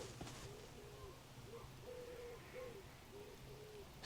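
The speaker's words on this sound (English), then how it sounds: "Stop now, you can hear a wood pigeon." A wood pigeon coos repeatedly in a soft, rhythmic series at RSPB Otmoor, fairly distant over steady outdoor ambience and low background noise.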